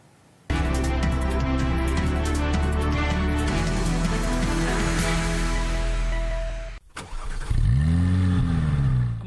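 New station wagons bought for Tatarstan's primary healthcare service start up and rev. A sudden engine roar holds steady and loud, then drops briefly before a rising, accelerating drone as a car drives off.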